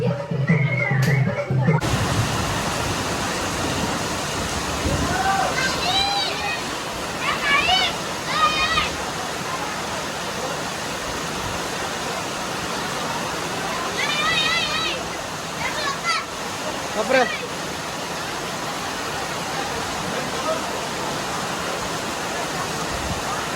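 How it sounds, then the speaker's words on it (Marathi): Continuous rushing of falling water at Ekvira, broad and steady, with a few brief whistles or calls rising over it. "पाणी पडते"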